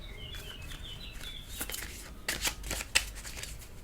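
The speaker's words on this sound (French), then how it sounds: "Alors, on va recouvrir ces cartes." Tarot cards shuffled and laid out on a table, a quick crisp riffling patter with sharp snaps, close and fairly soft, with no clear speech.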